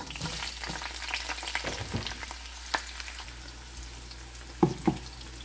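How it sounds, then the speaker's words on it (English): Coarsely chopped garlic and jalapeno peppers sauté together in a pan with a steady, moderate sizzle, broken by a few sharp clicks and knocks of a utensil against the pan. "we will just saute this maybe for 1 minute until this is slightly golden brown or translucent"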